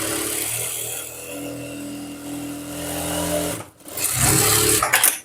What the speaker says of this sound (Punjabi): ਆਪਾਂ ਨੇ ਦੂਜੀ ਸਾਈਡ ਰੱਖ ਕੇ ਆ ਲਓ ਜੀ ਸਲਾਈ ਲਾ ਦੇਣੀ ਹੈ